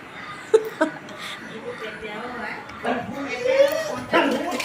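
A dog gives a few short yips and barks, scattered through the clip, over people talking nearby.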